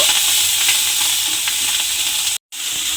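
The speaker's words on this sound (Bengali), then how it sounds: "পেঁয়াজ বাটাটা দিয়ে একটু নাড়াচাড়া করে ভেজে নিয়েছি" Onion paste frying in a pan as it is stirred, a loud continuous close sizzle with soft scraping strokes, cut by a brief dropout near the end.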